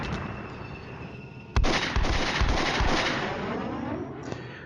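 Artillery bombardment in the video game Flashpoint Campaigns, a steady rumbling roar of gunfire that jumps louder with a sharp blast partway through, then rolls on as a dense, continuous barrage.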